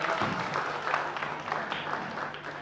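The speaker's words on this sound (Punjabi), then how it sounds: "ਪ੍ਰਿੰਸੀਪਲ ਮੈਡਮ ਰਾਜ ਰਾਣੀ ਲਈ ਤਾੜੀਆਂ" An audience claps in steady, continuous applause for a school principal at a Ludhiana charity society programme, dense and moderately loud throughout with no break.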